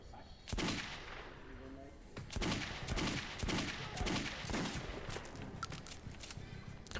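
Gunfire in the video game Metro 2033 Redux: several loud, sharp shots crack out irregularly amid ongoing game noise, with a few faint clicks and rattles between them.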